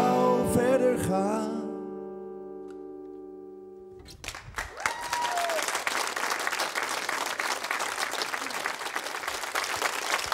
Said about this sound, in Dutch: Ja, blijft u klappen, want hier is die dan, Ray Martin!